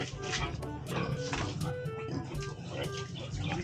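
Pigs on a farm grunt and oink repeatedly in a busy, dense chorus, close and fairly loud, with people talking faintly among them.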